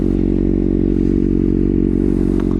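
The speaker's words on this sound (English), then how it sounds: "I'll give you guys a huge rev bomb so you can hear this bike" Kawasaki ZX6R sport bike with a freshly flashed ECU, its engine running loud and close with a steady, rumbling idle-to-rev drone and no talking throughout.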